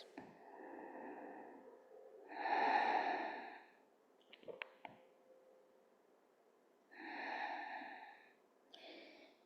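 Deep, slow breaths taken while resting during a hip-opening vinyasa yoga flow: a few long, airy inhales and sighing exhales, close and quiet, with gaps of near silence between them.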